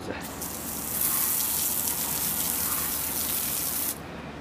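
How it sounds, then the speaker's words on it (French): High-pressure water spray hissing steadily for about three seconds as degreaser is rinsed off suspension parts from a 1987 Toyota Supra MKIII, loud and continuous before cutting off. "On va le laisser agir un peu et on arrose."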